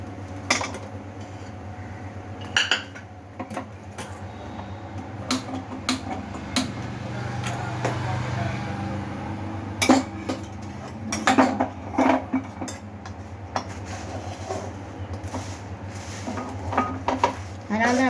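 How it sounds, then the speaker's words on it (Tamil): A flat dosa spatula stirs and scrapes thick jaggery syrup in a large metal pot for puffed rice balls, giving irregular metallic scrapes and clinks over a low steady hum. "இது வந்து இப்படி பெரட்டி கிண்டணும்."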